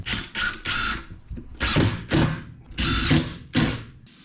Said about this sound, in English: So now let's get it screwed down.